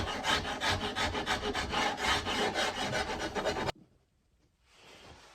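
A scraper rasps over wood while a guitar neck is carved, giving a close series of rhythmic scraping strokes for several seconds before stopping abruptly, followed by a faint rustle.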